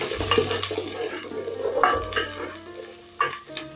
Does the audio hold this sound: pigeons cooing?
no